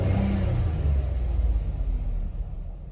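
A 2007 Chevy Malibu Maxx engine running smoothly after new spark plugs, a steady low rumble close by with a slight drop in level toward the end, no talking.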